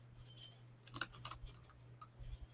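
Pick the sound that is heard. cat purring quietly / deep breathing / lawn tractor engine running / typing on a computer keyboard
typing on a computer keyboard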